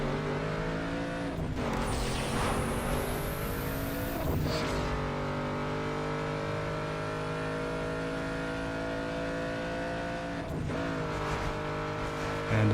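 Racing car engines from Need for Speed: Underground 2 on the PS2 drone and whine steadily, with rising gear-shift sweeps and brief dips between gears, loud and continuous with no talk.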